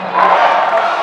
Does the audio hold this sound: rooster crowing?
no